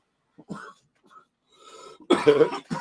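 Several harsh coughs with throat clearing, a few quiet ones at first, then a loud burst of coughing near the end.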